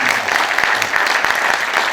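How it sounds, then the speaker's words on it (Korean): Crowd applause at a Korean memorial ceremony for General Paik Sun-yup, dense steady clapping from an audience filling the whole stretch without voices. "힘찬 박수로 부탁드리겠습니다"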